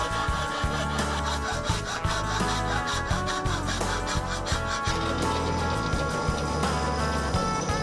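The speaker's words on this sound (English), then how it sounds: "with a rasp, files and coarse sandpaper I clean this up as good as I can" Rhythmic rasping and filing strokes on wood, repeated back and forth at a steady pace, close and fairly loud with no talking.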